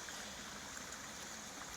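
A creek flows over restored step pools in a soft, constant rushing babble, faint and even from start to finish, with no voices.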